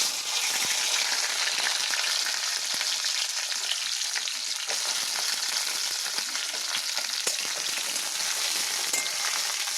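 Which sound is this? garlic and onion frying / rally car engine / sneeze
garlic and onion frying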